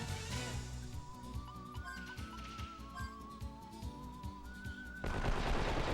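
Rapid machine gun fire in the role-playing video game Wild Arms 3, sustained bursts of clattering shots with whistling tones over the top, ending in a louder dense burst.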